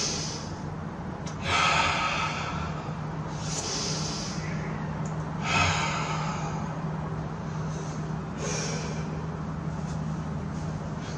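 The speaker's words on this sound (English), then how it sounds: "Deep breathing." Slow, deep breaths drawn in and pushed out by a kickboxing class, several audible inhale-exhale cycles spaced a few seconds apart over a steady background hum, no talking.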